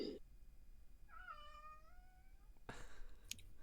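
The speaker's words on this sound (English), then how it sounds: "That was my cat." A house cat gives one drawn-out, rising and falling meow, faint and nearby in an otherwise quiet room, followed by a short rustle.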